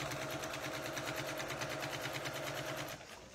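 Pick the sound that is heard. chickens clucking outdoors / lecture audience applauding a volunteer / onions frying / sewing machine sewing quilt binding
sewing machine sewing quilt binding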